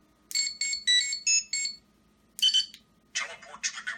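Electronic teleport effect from a Power Rangers Legacy Communicator toy: a quick run of bright warbling beeps, a pause, then a shorter burst and fizzy chirping tones, loud and close through a small speaker.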